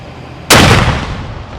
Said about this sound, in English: Cadets fired the cannon at the exact times of the attacks and collapse